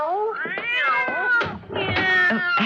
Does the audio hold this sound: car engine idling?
no